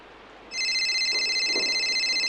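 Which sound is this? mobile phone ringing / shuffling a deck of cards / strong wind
mobile phone ringing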